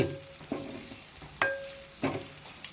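Tender mutton pieces fry in a pan for mutton fried rice under a soft steady sizzle, with a few sharp scraping stirs at intervals and no one speaking.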